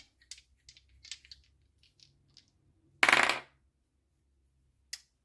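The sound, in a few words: dice being rolled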